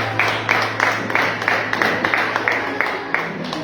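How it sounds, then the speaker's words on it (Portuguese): A congregation claps together in a church service, a steady run of evenly spaced claps over a low hum, fairly loud and without talk. "Dê uma linda salva de palmas ao Senhor Jesus."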